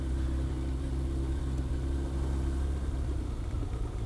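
A Suzuki RF900 motorcycle engine runs at night with a steady, low, rumbling idle, close and continuous with no revving.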